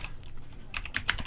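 Fast keystrokes on a computer keyboard during a web search, a loose run of clicks that turns into several sharper, louder taps near the end, close to the mic and with no voices.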